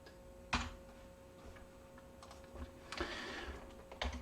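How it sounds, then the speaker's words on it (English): Code is typed on a computer keyboard, soft scattered keystrokes clicking faintly over a steady background hum, with a couple of louder taps standing out. "We're going to start typing in our code."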